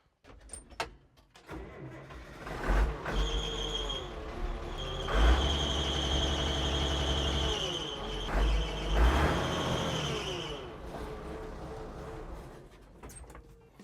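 An engine on farm equipment cranks and starts, its drive belt letting out a loud rising squeal over the running motor that comes and goes in several surges before settling.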